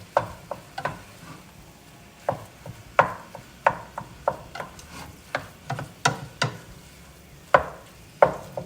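Ground meat stirred with onions and garlic in a pan for baked ziti, a spoon scraping and clacking in irregular strokes with a faint sizzle underneath, close and fairly loud, no talk.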